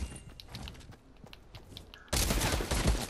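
Rapid gunfire bursts from a Fortnite Battle Royale match, a jetpack-update game, erupt loudly and densely in the final second, following quieter game sounds and scattered thumps.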